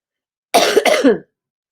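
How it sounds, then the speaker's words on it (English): A single short burst of harsh coughing, two quick hacks close to the microphone, followed by silence. "Still have this nasty cough, you guys."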